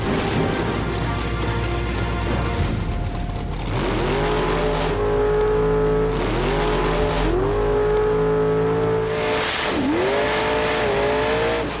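Drag racing car accelerating hard down a quarter-mile strip, hitting about 173 mph in 5.2 seconds, its engine a loud continuous roar whose pitch climbs steeply in repeated surges through the gears.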